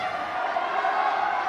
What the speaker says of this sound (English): Well, the crowd's going wild.